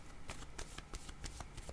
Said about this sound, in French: Allons-y maintenant avec une autre carte de mon jeu haut.